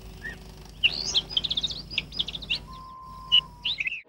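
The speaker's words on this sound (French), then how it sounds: "J'aime bien entendre les petits oiseaux chanter le matin." Small birds sing in quick, bright chirps and twitters, fairly close, with short pauses between phrases over a quiet low hum.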